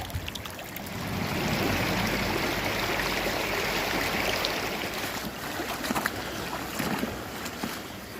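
A small Devon stream runs over gravel that is being shifted for gold prospecting, making a continuous rush of water with some splashy, uneven spurts toward the end. The sound is close and carries no talk.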